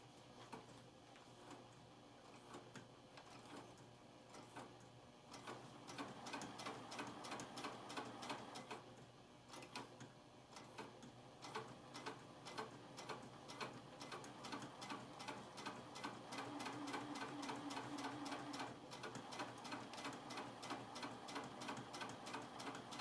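A sewing machine runs in steady bursts, its rapid needle ticking starting and stopping, with a short pause before it resumes at a quick, even rhythm.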